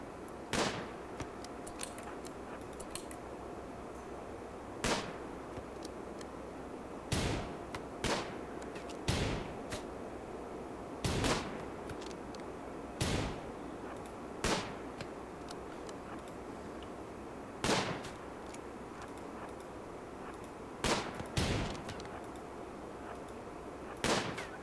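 Gunshots from the Rimworld video game, sharp isolated cracks spaced a few seconds apart, some in quick pairs, over a low steady background hum with no talking.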